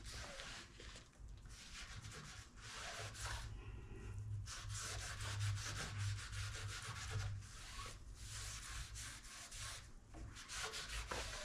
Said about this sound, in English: Take a wet rag where you can clean it up, get the excess off.